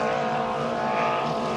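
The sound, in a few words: vintage racing boat with modified 1-litre engine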